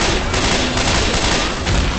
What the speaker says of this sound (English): I think the explosion flips car away.